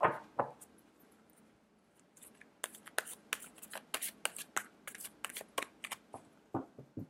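Tarot cards being shuffled by hand, with a burst of quick, crisp riffling snaps followed by a run of close, irregular card flicks and taps, fairly quiet and with no voice.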